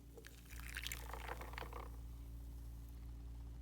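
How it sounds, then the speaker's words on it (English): Coffee is poured into a glass with ice, a short bubbling splash near the start, then a quiet steady trickle under a low room hum. "we're just gonna pour our coffee"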